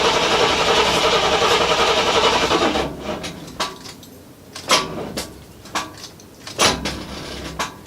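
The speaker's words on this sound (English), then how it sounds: "So, in the style of Stradman, here's a cold, very cold startup of a 1981 Z28 Camaro" A very cold 1981 Camaro Z28 with a 355 cubic inch V8 cranks and rumbles for a few seconds, loud and rough. It then cuts out, and a string of sharp clunks and knocks follows.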